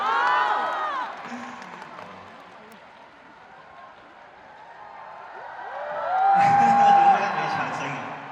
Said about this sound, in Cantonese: 點解俾掌聲啊？